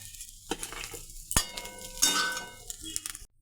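Fried mourola fish is lifted from the pan onto a plate amid light clinks and scrapes of a utensil, with a faint sizzle of oil underneath before the sound cuts off.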